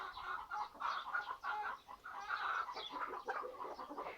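Hens cluck and murmur steadily in a busy, overlapping chorus, close by and fairly quiet, with no talking.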